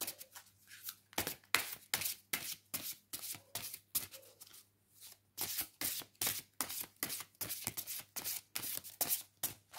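Tarot-style cards from a Falenaria oracle deck are shuffled and drawn, giving a steady run of crisp, close riffling bursts and flicks of paper with brief gaps between them and no talking.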